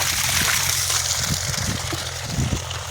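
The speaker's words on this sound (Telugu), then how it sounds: "బోర్ నీళ్ళు" Borewell water gushes out in a village, a loud close rush with sloshing and splashing over a low, steady mechanical hum.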